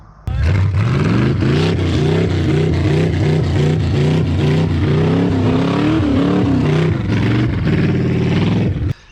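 A 1967 Pontiac Firebird engine runs loud and close for about nine seconds, revving up and down in repeated surges with no one speaking.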